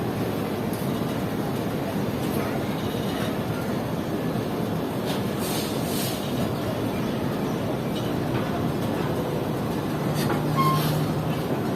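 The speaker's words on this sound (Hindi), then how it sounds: "हमारी ट्रेन ने भी डिपार्चर कर लिया है लांडी जंक्शन से" The Shalimar Express pulls out of Landhi Junction, heard from inside an AC standard coach: a steady, close rumble of rolling wheels and carriage noise fills the whole stretch without a break, with no voices.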